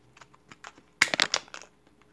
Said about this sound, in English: So I'm gonna cut up their cards that they gave me